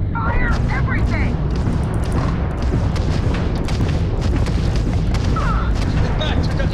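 Spaceship weapons in the game Starfield fire in a dense, rapid barrage of booming blasts and crackling impacts, loud and continuous throughout with a voice talking over the combat.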